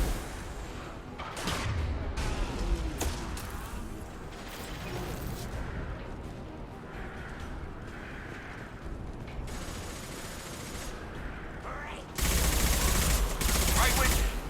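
Heavy weapons gunfire fills a Mass Effect 2 combat scene: dense rattling bursts and booming impacts with mechanical clatter, then a sudden loud roaring blast near the end, with game voices mixed in.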